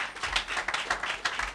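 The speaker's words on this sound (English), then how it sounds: "Please, a round of applause for him." Brief burst of audience applause after a business seminar talk, irregular overlapping claps at moderate distance, fairly quiet and fading in and out.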